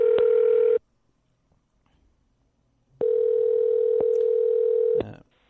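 A steady electronic Skype dialing tone sounds in two long bursts separated by a couple of seconds of silence, close and clear with no talking.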